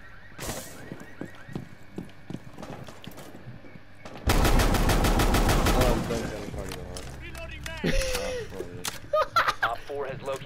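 Ela's shotgun in the Rainbow Six Siege video game fires a loud, dense burst of rapid blasts for about two seconds mid-clip, surrounded by quieter game sounds and voices talking.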